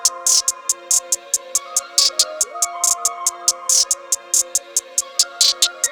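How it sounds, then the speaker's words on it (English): A simple programmed hi-hat pattern from an FL Studio rap and R&B beat, crisp evenly spaced ticks in a steady loop over a sustained synth pad, with no voices. "I started out with the hi-hat."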